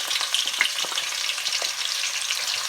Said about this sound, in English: as the oil is hot now, we're going to put the onion in it